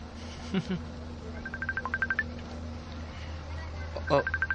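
A telephone rings with an incoming call in a room, giving a quick run of electronic tone bursts, then a second short burst, faint and distant under a steady background hum.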